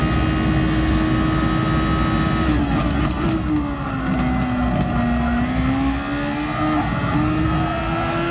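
In a racing video game, a race car engine drones loudly and continuously on a lap, its pitch dipping and climbing as gears and speed change, with no talk.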